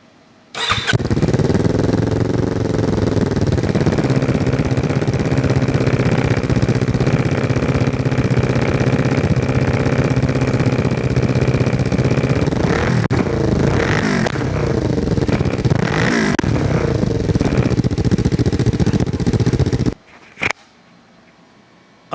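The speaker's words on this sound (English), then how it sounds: "do I leave you hanging waiting for an exhaust sound?" Kawasaki Ninja 500 motorcycle with an eBay aftermarket exhaust starting up and idling loud and close, a steady throbbing rumble with a couple of brief revs midway before the engine cuts off.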